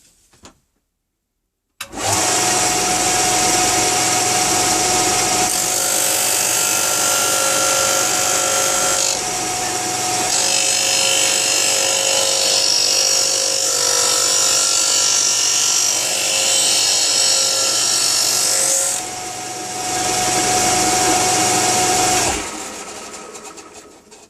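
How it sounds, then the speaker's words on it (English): An Axminster AC200BDS bench sander runs up after a short quiet start and keeps a loud, steady whir while it sands scrap wood, with the pitch and grit noise shifting as the wood is pressed. It then winds down. "let's try sanding a piece of scrap wood."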